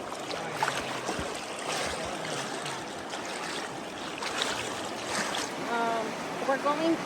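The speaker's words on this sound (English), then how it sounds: "Currently hiking upward from the Narrows, you're going against the current." River current flows steadily in the Narrows of Zion National Park as a hiker wades upstream, a broad close rush of water with splashing, plus a brief faint voice near the end.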